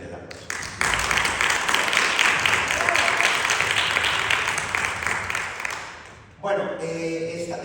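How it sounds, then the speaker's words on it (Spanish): Applause from an audience at a round-table event during a festival, a sustained wash of clapping that swells in and holds for several seconds before cutting off into other sound near the end. "Ahora sí que viene la aplauso."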